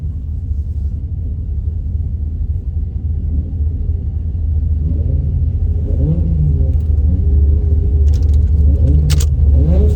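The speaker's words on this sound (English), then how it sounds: "pulling up in the burnout box" A turbocharged Dodge Dakota RT truck idles and creeps forward into a drag strip burnout box, its loud, steady engine rumble near and continuous, with brief clinks and mechanical ticks toward the end.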